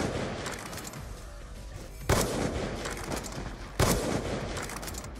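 DSR sniper rifle fire in Call of Duty, two sharp loud reports a couple of seconds apart over a rumbling in-game background.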